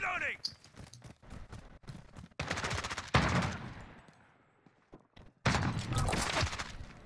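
Rapid gunfire bursts in a shooter video game, loud clattering volleys separated by brief pauses, with voices talking over parts of the shooting.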